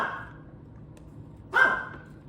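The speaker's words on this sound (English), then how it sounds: "Might be hearing my dog in the background here." A dog gives a single sharp bark in the background midway through, standing out over a steady low room hum.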